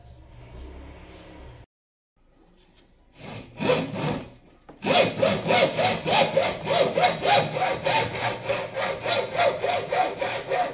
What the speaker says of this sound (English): so I will cut it there.